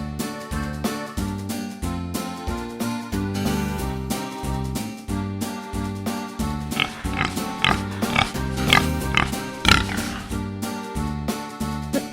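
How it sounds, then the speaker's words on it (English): A pig oinks and snorts in a few short bursts in the back half, mixed into loud, steady children's music that plays throughout. "The pig says oink"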